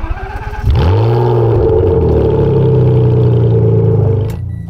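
A Ferrari 612 Scaglietti engine cranks and fires, then settles into a loud, steady rumbling idle close by that fades slightly near the end, with no voices.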